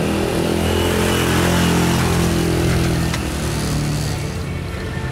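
A motorcycle ridden by Emy, a learner practicing on the road, revs loudly and close for several seconds, then eases to a slightly lower, steadier engine drone with no voices over it.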